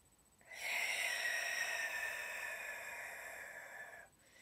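One long, steady exhale through the mouth, close and breathy, lasting a few seconds before fading back to a quiet room.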